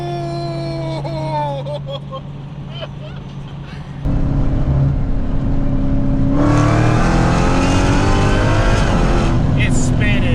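A tuned Dodge Hellcat launches hard with its tires spinning, the engine note rising from a rumble into a loud, sustained roar with screeching wheelspin close by, while people talk and shout over it.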